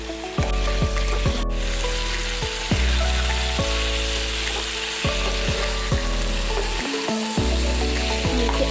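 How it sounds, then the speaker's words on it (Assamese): Local chicken meat stir-fried in a pan at home, a steady loud sizzle close by, broken by repeated scraping strokes of a spatula stirring the pieces every second or so. "এতিয়া মাংসখিনি লৰাই আছোঁ। ধুনীয়াকৈ মাংসখিনি লৰাই আছোঁ।"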